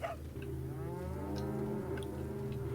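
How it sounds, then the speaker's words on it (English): A cow gives one long, drawn-out low moo in Resident Evil 4, loud and close, with faint clicks in the background and no speech. "Also, if you want to, you can kill the cows."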